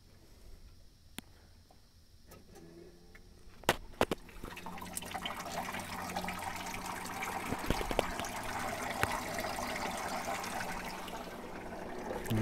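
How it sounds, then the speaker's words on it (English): Small 12V DC water pump in an evaporative cooler starts up, its faint hum giving way to a steady trickling, splashing flow of water with scattered clicks and knocks close by. "now a test of the pump."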